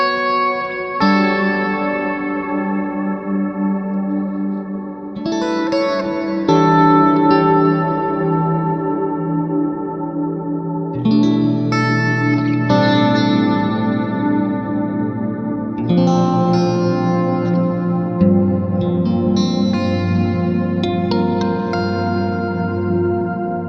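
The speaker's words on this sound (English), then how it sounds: "This is an enormous, expansive ambient reverb type that I really love for clean chords" Clean electric guitar chords through a Fractal Audio Cumulonimbus ambient reverb, each strummed chord blooming into a huge, wide, shimmering wash that sustains and overlaps the next over a long, steady stretch.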